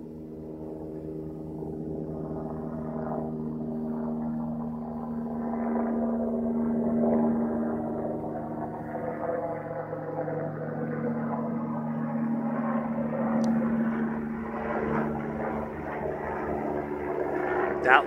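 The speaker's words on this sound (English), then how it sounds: "Oh yeah, it is a Chinook." A Chinook helicopter flies past, its deep throbbing rotor drone steady and continuous for the whole stretch, rising slightly as it approaches, with faint voices underneath.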